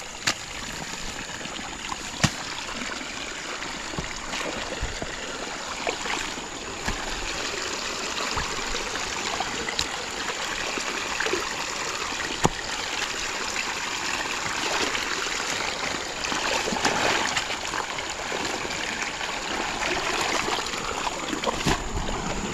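Water draining and flowing through a channel in a farm field, a continuous close trickling and babbling with light splashes, steady throughout.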